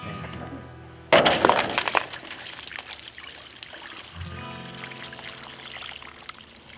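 A sudden crack and splash gives way to water pouring and trickling steadily out of a frozen pipe, close and fairly loud, then easing into a thinner stream.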